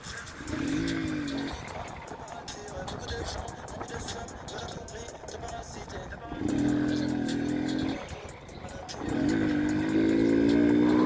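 A motorcycle rides along the road, its engine note rising and falling in repeated accelerations with a steady rumble between them, while a person talks over it.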